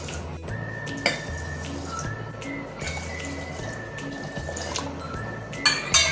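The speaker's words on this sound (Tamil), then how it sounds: "அதுக்கு வந்து நான் வந்து ஒரு 3/2 டம்ளர் தண்ணி வைக்கிறேன்" Water pours steadily into a cooking pot for pongal, a continuous splashing trickle with a few clinks and knocks, close by and without talk.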